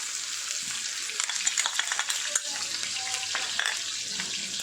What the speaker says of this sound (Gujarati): આ રીતે જીરું તતડી જાય